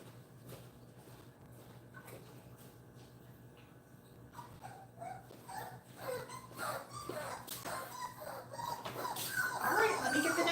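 A puppy at a kennel whimpers and yips after its bath, faint at first and then rising into louder, more frequent high cries toward the end, over a steady low background hum.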